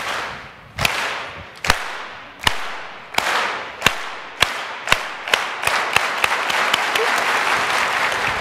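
At a red carpet show and presentation, a crowd claps in slow, sharp, separate beats that come close together and then blend into steady applause, with a faint murmur of voices underneath.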